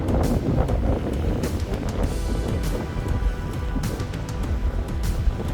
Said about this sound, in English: Very windy and chilly.